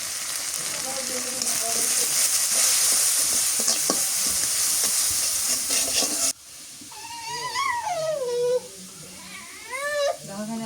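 Spices with salt and turmeric sautéing in a pan for a river pogol fish curry, a steady sizzle with stirring scrapes for about six seconds, then quieter frying under a voice.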